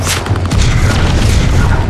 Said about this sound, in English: Because of all the explosions and all the smoke bombs and everything going off and the real gunfire, you feel like you're at war.